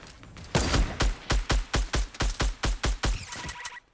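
Rapid, evenly spaced gunshots in Fortnite crack out in a loud steady string of about a dozen, followed by a brief high electronic tone at the end.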